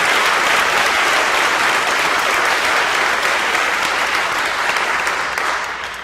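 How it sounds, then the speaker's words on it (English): A crowd at a Nat Geo "Water Is Life" event on Martha's Vineyard gives a loud, continuous round of applause, a thick even roar of clapping that tapers slightly at the end. "I hope you'll join me in giving him a round of applause"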